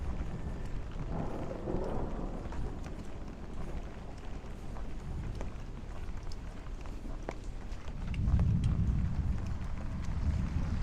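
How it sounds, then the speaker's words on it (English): Low rumbling thunder builds and swells near the end, heard under steady light rain on an umbrella and outdoor street noise during a thunderstorm in Bay Ridge, Brooklyn, New York City. "we've been getting some frequent lightning and thunder right now"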